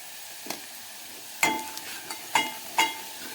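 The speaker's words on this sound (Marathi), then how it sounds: "फोडणीमध्ये तिखट घ्यायचं आहे" Chili powder goes into hot oil for a tempering, with a faint sizzle underneath and a few distinct scraping clicks of a spoon stirring in the pan, close and fairly quiet.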